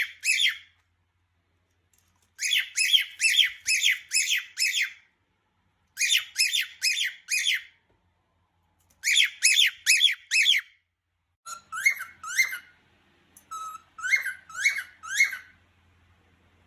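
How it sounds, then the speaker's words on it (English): A parrot squawks in repeated bursts of harsh, shrill calls, several in quick succession each time, separated by short silences, loud and close. "it's perfectly normal for them to be noisy"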